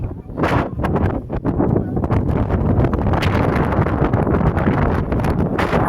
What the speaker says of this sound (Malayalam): ഒരു ഹില്ലിൻ്റെ മുകളിൽ അത് നല്ലൊരു കാറ്റാണ്